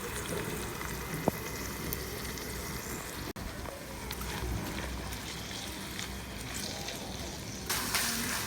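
Chopped onions lightly sautéing in a pan in a village kitchen give a steady, even sizzle that carries through the whole stretch at moderate loudness, with a few faint clicks and no talk.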